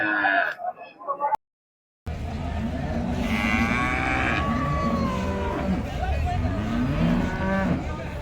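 A breeding heifer at a cattle sale moos in long, drawn-out, wavering calls, close and loud, while people talk nearby.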